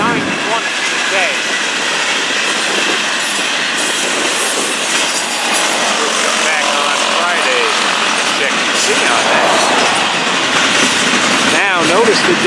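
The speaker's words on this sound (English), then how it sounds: "Now notice the difference in sound the hoppers make as opposed to the intermodal." Loaded freight train hopper cars roll past close by, a loud steady rumble of wheels on rail with squeals and clicking joints throughout, no pause in the passing cars.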